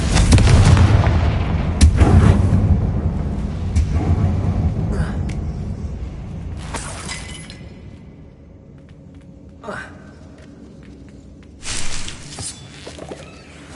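A Confringo fire-blast spell explodes in the video game Hogwarts Legacy with a loud, rumbling boom that slowly decays, followed by smaller thuds and impacts, with speech also present.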